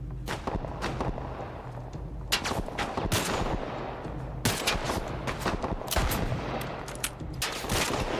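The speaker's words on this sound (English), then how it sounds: "Wow, that's a powerful pistol." Powerful pistol shots from a sniper pistol in The Last of Us Part II, firing loud and close in irregular bursts over a steady background rumble, with sharp cracks around the two-, three- and four-and-a-half-second marks and more that follow.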